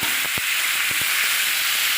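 Potato, pumpkin, pointed gourd, eggplant and green chilies fry in hot oil with a loud, steady sizzle. Several short knocks of a spoon against the pan stand out, and no voice is heard.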